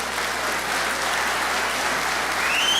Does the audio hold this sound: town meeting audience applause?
yes